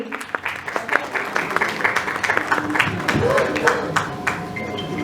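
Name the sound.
audience applause at an awards ceremony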